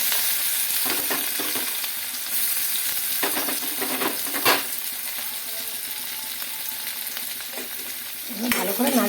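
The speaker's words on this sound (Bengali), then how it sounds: "ভালো করে নাড়িয়ে লাল লাল করে ভেজে নেব" Chopped onion sizzles steadily in hot oil left from frying potatoes, with intermittent scraping and clattering as it is stirred in the pan, close and continuous for the whole stretch.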